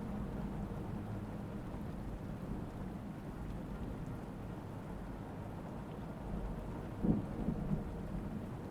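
Quiet rain with low rumbling thunder, a soft steady patter under a faint distant roll and a brief louder rumble near the end, with no voices.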